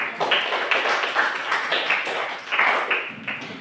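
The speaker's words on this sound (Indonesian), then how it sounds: "Tepuk tangan dulu" A seventh-grade class claps together for a student who answered correctly, the clapping coming in rhythmic bursts of several quick beats with brief dips between them, near and fairly loud with no talk over it.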